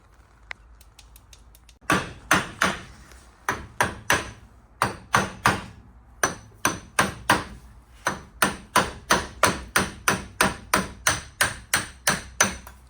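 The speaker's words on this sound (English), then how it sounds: "I noticed you've gone for a copper hammer." Repeated sharp metallic strikes of a copper hammer on a Porsche part ring out in a steady rhythm, close and loud, with a few lighter taps at the start.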